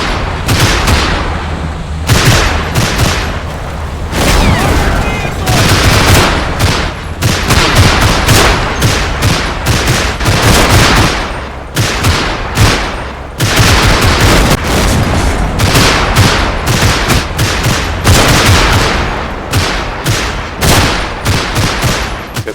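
Dense machine gun fire in the WWII tactics game Combat Mission: Final Blitzkrieg, a Jeep's mounted gun and a Greyhound armored car raking a street in Schmidt, with rapid bursts, heavy booms and continuous loud crackling throughout.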